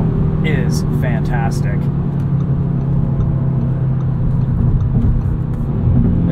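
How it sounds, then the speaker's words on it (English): The five-cylinder engine of a 2022 Audi RS 3 holds a steady low drone inside the cabin, running continuously beneath a person talking. "the five cylinder just makes a symphony of sounds"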